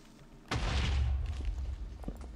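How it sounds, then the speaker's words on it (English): A creeper explodes in Minecraft with a sudden loud, close boom that rumbles on and slowly decays over about two seconds, with no one talking. "That explosion did nothing."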